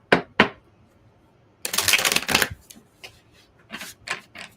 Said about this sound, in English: as I shuffle here through this oracle cards